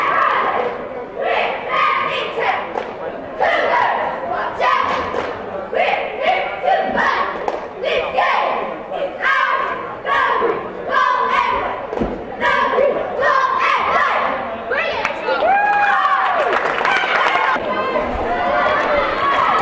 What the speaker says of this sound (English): And those are the cheerleaders.